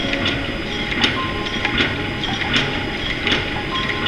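A small VFFS vertical form-fill-seal liquid sachet packing machine runs close by in a regular rhythmic cycle of clacking and clicking over a steady mechanical drone, with no talk.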